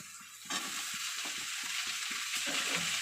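Food fries in a pan over a gas flame. A loud, steady sizzle bursts in after a half-second of quiet and continues, with faint stirring clatter underneath.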